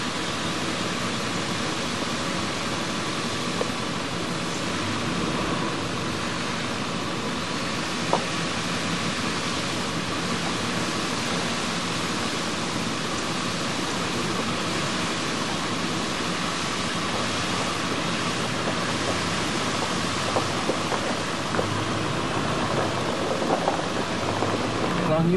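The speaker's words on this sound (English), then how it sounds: "Waterfall over there." Steady broadband rush of a waterfall by a river, continuous and even throughout, heard at some distance with no other clear sounds.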